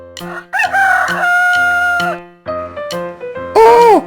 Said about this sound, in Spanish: ¿Cómo hace el gallo?